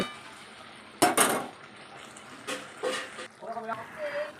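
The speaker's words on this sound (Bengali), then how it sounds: "আলুটা দিয়ে একটু কষিয়ে নিই ভালো করে" Potatoes and meat being stir-fried in a pan, heard as a few close scraping and clanking stirs against the pan over a soft sizzle, with a voice talking in between.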